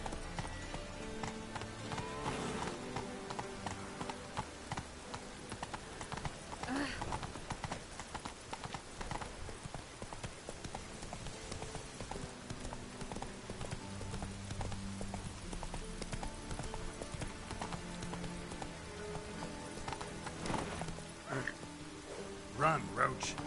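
Roach, the horse in The Witcher 3, gallops at a steady hoofbeat rhythm under a continuous game soundtrack, with a brief whinny hint; a voice speaks over the hooves.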